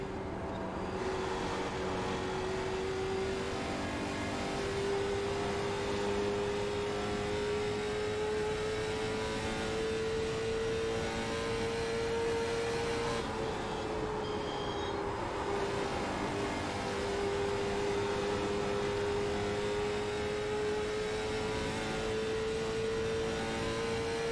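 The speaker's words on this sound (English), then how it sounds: "Listen at the thunder coming from this race car. Love this new sound of this one." NASCAR Gen 4 race car engine at Atlanta, a steady sustained roar with a slowly rising pitch, heard from a distance amid broad track noise, with no talk.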